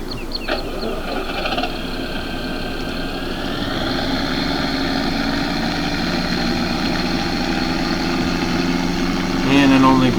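A tractor engine idles with a steady, low, continuous drone close by, a faint whine rising early on and a brief clatter near the end, with someone talking over it.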